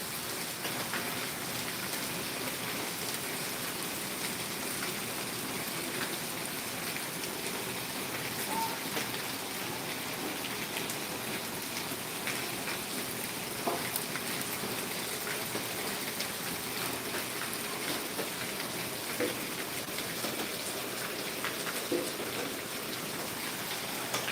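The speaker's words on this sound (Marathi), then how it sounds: "ऊन पाऊस हे एकत्र आपल्याला पाहायला मिळत आहे" Steady rain falls in Karad during a sunshower, a dense, even hiss of drops on surfaces that continues unbroken and fairly loud throughout, with no voices.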